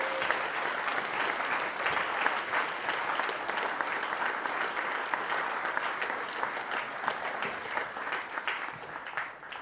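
Audience applause at a Millbrook School Cum Laude Society induction ceremony, dense steady clapping from a crowd holding for several seconds without a break.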